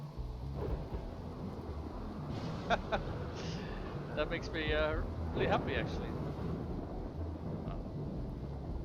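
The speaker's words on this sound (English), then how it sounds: "it is a rainy thunderstorm still" A rainy thunderstorm in the video game RimWorld hisses steadily in the background as a low rumbling wash beneath a man's speech.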